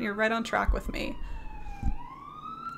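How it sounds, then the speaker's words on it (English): Sirens wail with a sliding pitch as emergency vehicles pass, heard beneath a person talking at first and then alone. "Excuse the sirens."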